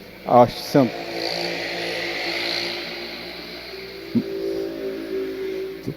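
A motorcycle engine hums by at a distance with a steady mid-range drone, a couple of sharp knocks early on, and a low tone rising near the end.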